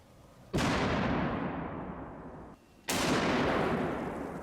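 .50 caliber rifle rounds fired and exploding outdoors: two sharp, loud blasts about two seconds apart, each followed by a long decaying rumble with no voices.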